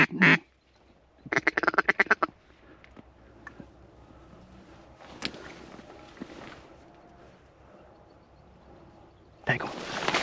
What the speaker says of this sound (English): They're mallards.